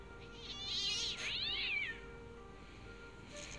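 A kitten in the video game Fran Bow gives two drawn-out, clear meows in close succession, fairly loud and alone, followed by faint high game tones.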